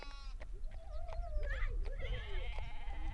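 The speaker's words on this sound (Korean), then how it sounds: "달철롱의 외삼촌인 다시도르치가 아침 일찍부터 데리고 나갔던 양이며 염소를 몰고 집으로 온다." A herd of sheep and goats returning home in the Gobi desert, with overlapping bleats rising and falling close by over steady wind and trampling.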